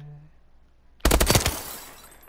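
An M16 rifle in Call of Duty: Advanced Warfare fires a quick burst of several loud, closely spaced shots after a quiet moment and a short tone, the reports trailing off into a fading echo.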